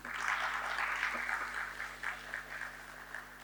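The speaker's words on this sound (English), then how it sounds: "And a round of applause for this," Audience applause at a BSE SME platform IPO listing ceremony for a loyalty-tech company, a steady, fairly faint wash of clapping that holds for the whole stretch and thins slightly toward the end.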